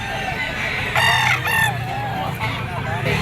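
Stag gamecock crowing close by, one loud drawn-out cock-a-doodle-doo in the middle, with clucking and soft farmyard murmurs around it.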